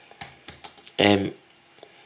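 A command being typed on a computer keyboard: a few light, spaced key clicks, then a brief louder burst, with a voice faintly present.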